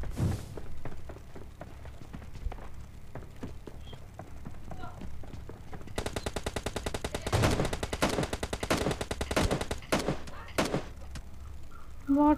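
Gunfire in the mobile video game PUBG Lite: scattered single shots, then dense rapid bursts of automatic fire, loud and close, with game sounds and voices talking throughout.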